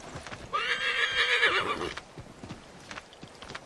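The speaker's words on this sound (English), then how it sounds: "Alright, horse has been called." A horse in the Assassin's Creed 3 game whinnies loudly for over a second, followed by a quieter rhythmic clip-clop of hooves.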